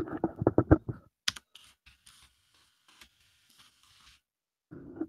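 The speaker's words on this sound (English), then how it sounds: "That was my clickety clackety DOS keyboard. My mechanical keyboard" Rapid clattering keystrokes on an old mechanical DOS-era computer keyboard, then a few scattered clicks with quiet gaps, and another short burst of typing at the end.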